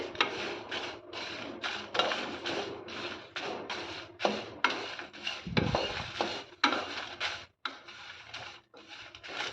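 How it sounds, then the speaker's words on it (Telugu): Dry red chillies and curry leaves being dry-roasted in a pan, with repeated scraping and rustling strokes as a spoon stirs them in a steady, uneven rhythm, close and moderately loud. "ఈ విధంగా ఎండుమిర్చి కరివేపాకును కూడా మనం చక్కగా వేయించేసుకున్నాం కూడా"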